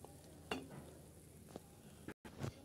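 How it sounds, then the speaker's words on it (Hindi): Onion fries in a pan, giving a faint, quiet sizzle broken by a few stirring scrapes. "ये देखिए प्याज डाला जा रहा है अभी।"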